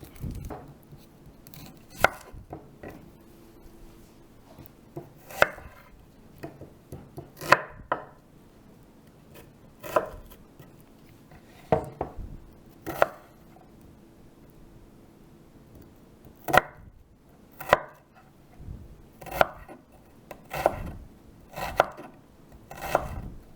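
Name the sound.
chopping onions and garlic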